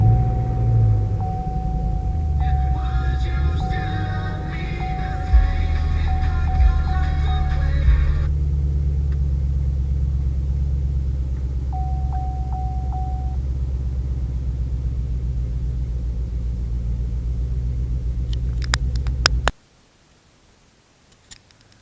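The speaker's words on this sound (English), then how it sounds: "I forgot to put one of the boots back on, so I was hearing this ticking sound and the car was running extremely poorly and rich." Chevrolet Camaro LS3 V8 from 2013 idling rough with one spark plug boot left off: a steady low engine rumble with faint ticking, cut off abruptly near the end.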